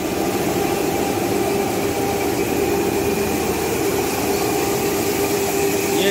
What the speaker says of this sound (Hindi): ये जैक मशीन है, इसमें मोटर लगी हुई है